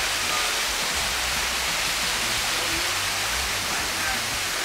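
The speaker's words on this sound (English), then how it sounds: "take a picture of this little waterfall right there" A small waterfall on a mountain trail gives off a steady, broadband rush of falling water, constant and fairly close, with no break across the clip.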